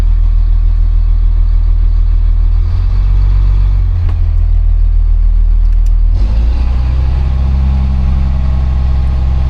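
A diesel RV bus engine idles steadily in a loud, continuous low rumble, shifting pitch slightly a couple of times as it settles, with no one speaking.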